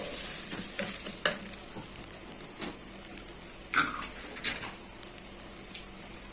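Rice is stirred in a pot while cooking koshari, a continuous sizzle with scraping spoon strokes and occasional clinks against the pot.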